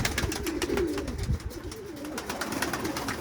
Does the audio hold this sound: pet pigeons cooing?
yes